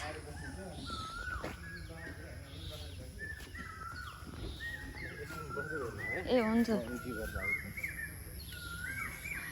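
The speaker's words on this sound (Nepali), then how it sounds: "हेर चराको तपाईँहरूले सुन्न सक्नुहुन्छ चिरिबिरी चिरिबिरी कति मजाले" Birds chirp and call repeatedly in the background outdoors in Chitwan, Nepal, a mix of short tweets and harsher caws, while people talk nearby.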